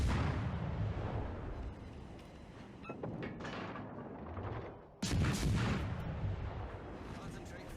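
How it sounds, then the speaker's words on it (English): Warship naval gunfire in World of Warships: Legends, heavy booming salvos rolling out in bursts with one sharp loud blast midway, dense and continuous rumble under faint background. "Concentrate fire on the enemy warship."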